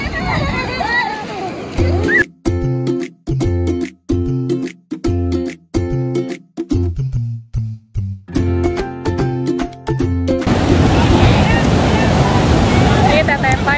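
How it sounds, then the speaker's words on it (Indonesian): Ocean waves and surf roll onto Pangandaran beach under a cloudy sky, heard as a loud, steady wash with wind buffeting the microphone, while music with a strong beat plays over much of it and fades out, leaving the surf alone at the end. "Ini Teteh Pai udah mulai mau ikutan main ombak"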